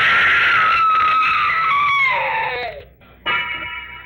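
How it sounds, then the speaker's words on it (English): A long, loud scream from an old-time radio mystery drama slides downward in pitch for nearly three seconds. It breaks off abruptly, and after a brief gap a sustained high tone takes over. "Wish I never heard that scream."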